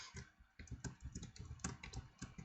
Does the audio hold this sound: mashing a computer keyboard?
yes